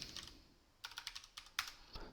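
Keys clatter on a computer keyboard as commands are entered into a Proxmark command-line tool, a few bursts of quick, close taps separated by short pauses, quiet and with no talking.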